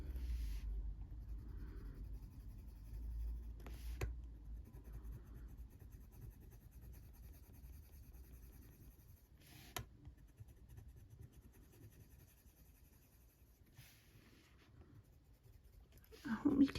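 A worn-down colored pencil colours on paper in a faint, steady scratching texture, quiet and close, with a few soft taps and a voice heard at the end.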